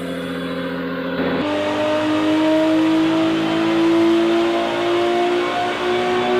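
A strapped-down Subaru drift car's engine revs hard and steadily on a dyno, holding a loud, rising tone that climbs gradually throughout, with a brief shift near the start.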